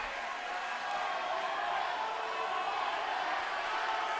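Steady crowd murmur fills a big school gym during a Wilmington Charter at Saint Marks volleyball match, a continuous even hubbub with no distinct cheers or claps.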